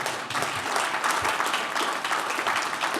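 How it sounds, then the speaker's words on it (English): Dense, sustained applause from a gala audience at the Aish Trustee Gala 2021, a full room of clapping that holds steady and even for about three seconds with no voice on top. "Please applaud for that"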